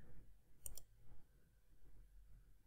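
A few crisp computer mouse clicks on a Windows 11 laptop or desktop, a quick close pair near the start and then quiet room tone, faint and alone.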